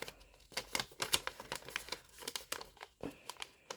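Origami paper for a Sanrio character model is creased and folded in quick, close crinkles and crisp rustles with irregular sharp taps, fairly quiet, no talk.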